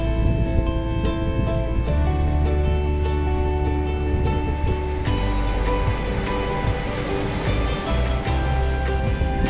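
Ocean surf rolls and washes continuously where harbor seals are being released, a steady broadband roar with a shift partway through, layered under a sustained music bed throughout, with no speech.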